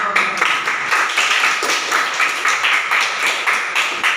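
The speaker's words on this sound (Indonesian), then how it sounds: "Tepuk tangan untuk" A class of students applauds for a group about to present, a dense, steady patter of many hands clapping together, fairly loud and continuous throughout with no talking over it.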